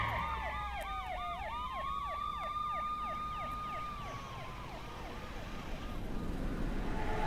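A police siren in The Crew racing game wails in rapid, overlapping yelps, several sirens sweeping up and down together over a running car engine, fading slightly before the engine swells at the end.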